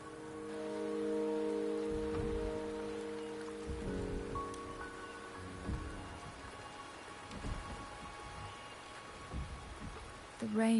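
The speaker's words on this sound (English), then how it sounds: "The rain is subsiding, and the sky will soon clear." Steady rainfall hisses in a video game scene, with low rumbling swells that suggest thunder, layered under sustained tonal game music throughout.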